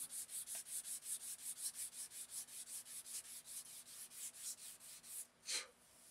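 Steady rhythmic sanding on a Winchester Model 71 wooden gun stock, back-and-forth rasping strokes repeating evenly at close range, ending with one slower, heavier stroke.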